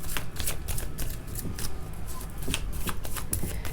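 Tarot cards shuffled by hand, a close, loud run of riffling flutters and snapping card edges in quick repeated bursts, with no talk.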